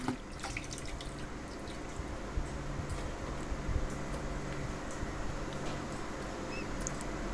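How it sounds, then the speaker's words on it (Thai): Catfish being rinsed under a running tap at a kitchen sink, a steady broadband splash and trickle of water with scattered drips, continuous and fairly close throughout. "เสร็จแล้วก็ล้างน้ำซ้ำอีกหนึ่งรอบค่ะ"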